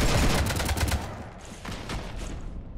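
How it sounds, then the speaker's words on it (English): Rapid bursts of gunfire in Mass Effect 3 during a clone boss fight, a dense loud fusillade of shots that thins into scattered, quieter shots toward the end. "You want to stop shooting up my ship?"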